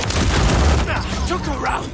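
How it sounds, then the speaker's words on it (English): A Semtex grenade blast in Call of Duty MW3 on the Shipment map, a loud rumbling boom amid dense gunfire and chaotic battle noise, with a player's voice talking over it. "Throwing Semtex!"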